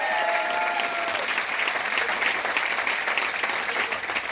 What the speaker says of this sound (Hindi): कुणाल जी एक बार कुणाल जी ताली बजा दो यार, ये प्रोग्राम ऑर्गेनाइज करने के लिए।